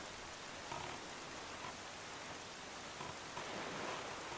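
Driving rain falls in The Legend of Zelda: The Wind Waker, a dense, steady hiss of downpour with faint surges and no voices over it.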